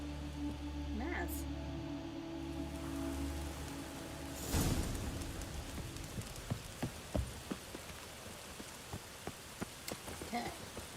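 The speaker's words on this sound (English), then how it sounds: "Rain again." Rain falls in The Witcher 3: Wild Hunt, a faint steady patter with scattered droplet taps and a low background rumble, with brief quiet game sounds early on.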